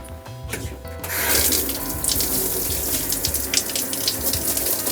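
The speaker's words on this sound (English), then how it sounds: "Get the hot water in there." Hot tap water gushes into a mobile dog grooming bath, starting after a second with a sudden hissing rush and then running steadily and loudly at close range.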